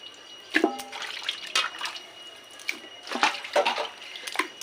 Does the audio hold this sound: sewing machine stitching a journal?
no